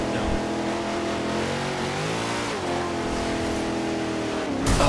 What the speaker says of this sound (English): I'm just spinning the tires, like, all the way up the hill